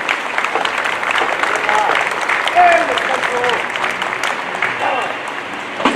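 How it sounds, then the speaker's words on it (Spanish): Applause for a military band rises and holds steady at a federal protection service flag-honours ceremony. A large crowd claps in a dense, continuous wash for several seconds. "Otorgamos un aplauso a la participación de nuestra banda de guerra."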